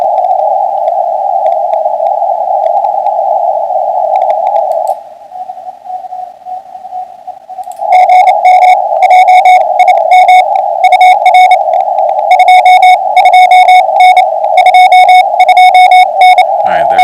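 Amateur radio Morse code signal: a steady noisy tone that drops quieter briefly, then clear keyed CW dits and dahs emerge in rapid rhythmic bursts over the hiss, loud and continuous.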